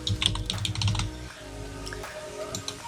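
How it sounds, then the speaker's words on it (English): Rapid clicking keystrokes on a computer keyboard while entering a food item into a fitness tracking log, close and steady for a few seconds with no talk. "I'm gonna type some peanut butter."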